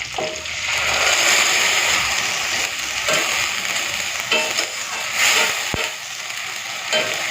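Onion, tomato, ground fennel paste, whole cumin, ginger and green chilli sizzle and fry in a pan, with a continuous loud hiss and occasional scraping stirs, plus a single sharp knock against the pan.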